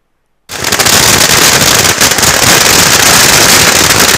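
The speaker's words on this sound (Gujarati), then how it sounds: "યુનિવર્સિટી વહીવટી ભવનની આગળ ફટાકડા ફોડી વિજય દિવસની ઉજવણી કરવામાં આવી" Firecrackers bursting in a dense, continuous loud crackle in front of a university administrative building during a Kargil Vijay Diwas victory-day celebration, starting abruptly and running without pause.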